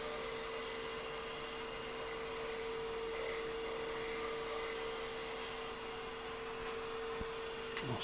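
A wooden sphere being turned on a lathe while a scraper works its high sides, producing a steady, continuous rubbing whir with a constant motor hum, close and fairly loud throughout.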